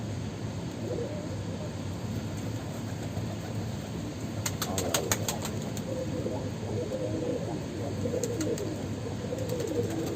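Young feather-footed Dönek tumbler pigeon, a squab, giving low soft coos under steady background noise, with a few brief sharp clicks midway and near the end.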